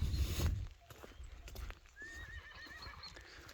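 A horse whinnies in a long, wavering neigh at a moderate distance, preceded by a few hoof thuds and shuffling noises.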